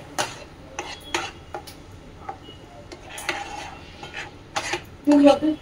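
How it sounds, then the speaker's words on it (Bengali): Chana dal being stirred in oil in a pan, sounding as a run of sharp metallic scrapes and clanks of a spoon against the pan at an uneven pace, close and fairly loud, with no talking. "তো ছোলার ডালটাকে এইরকম করে ভালো করে নাড়াচাড়া করতে হবে।"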